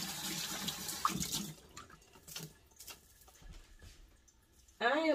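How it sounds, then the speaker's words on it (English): Hand rinsed under a running kitchen tap, water splashing steadily at close range in the opening seconds before fading into quieter sink sounds. "Let me just rinse my hand off"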